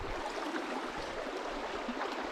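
River water flowing in a California mountain range, a steady close rushing and gurgling that holds evenly throughout with no voices.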